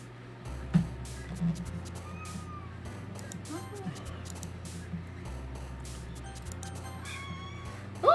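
Cartoonish cat meows from the Doki Doki Literature Club video game, a short mew near the start and a louder, sharper one at the very end, over a steady low game music bed.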